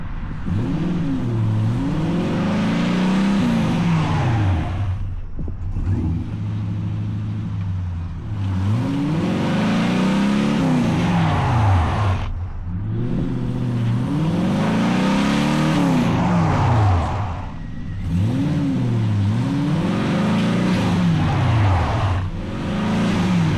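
A Pontiac Firebird drives with its freshly fixed brakes tested, the engine revving up and dropping in four repeated rising-and-falling cycles, loud and close with no talk.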